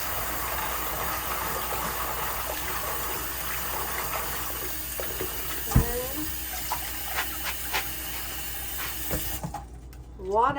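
Running tap water pours over soaked beans as they are rinsed in a kitchen sink, a steady close splashing hiss with a few clattering knocks before the flow stops near the end.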